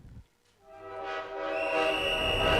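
A train horn sounds with sustained whistle-like tones rising in loudness for a pretend train ride in a preschool church service, alone without talk.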